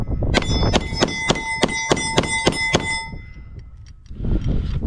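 A Tokyo Marui TM9 airsoft pistol with an upgraded striker spring fires a string of about ten rounds. Sharp, evenly spaced, ringing metallic clacks come close and loud, then stop, and a rustling handling noise follows.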